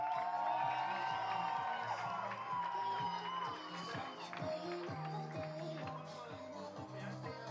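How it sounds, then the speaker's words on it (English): Audience at a men's bouldering and lead climbing final in Pretoria cheering and applauding a climber, with crowd noise and whoops fading gradually, mixed with a few shouts and a steady musical hum under it. "Give him a round of applause"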